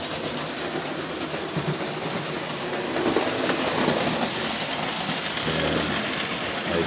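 A Marx toy train runs on a home layout over new Marx 610 switches, a continuous close rumbling whir of wheels and motor that holds steady throughout.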